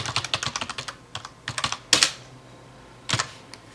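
Bursts of typing on a computer keyboard while logging in, quick clustered key clicks in two runs, one sharp louder strike in the middle, then a short final flurry, close and alone without talk.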